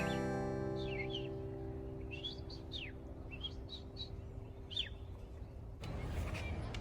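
A little bird tweets in quick, high chirps spread across the clip, moderately close and faint over a low engine hum, with a short louder burst of noise at the end.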